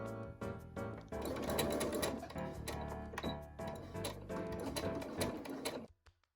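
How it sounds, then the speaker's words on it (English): A sewing machine stitches a folded fabric hem in one loud, steady run of rapid mechanical clatter lasting about six seconds, then stops abruptly. "Then I'm going to sew here."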